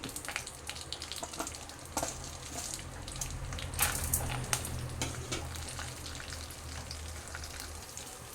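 Lentils frying in a little oil in a pan on the stove for chutney, a soft continuous sizzle with scattered pops and crackles, close but fairly quiet, with a brief low rumble in the middle.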